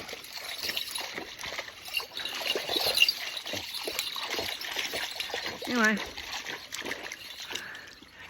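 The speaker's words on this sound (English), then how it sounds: "not much of a waterfall going on" A small creek waterfall trickles and splashes softly and continuously outdoors, faint and low-level beneath a person talking, with a few brief louder splashes.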